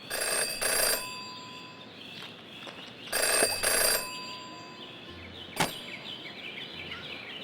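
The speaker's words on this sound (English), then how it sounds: "never to ignore a ringing phone" A telephone in the Jenny LeClue game rings in two bright, jangling bell bursts, each about a second long, followed by a sharp click and quiet ambience.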